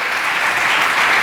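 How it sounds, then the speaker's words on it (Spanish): A church congregation breaks into loud applause, a brief, dense burst of many hands clapping together that fills the room evenly. "Sí, denle un aplauso fuerte."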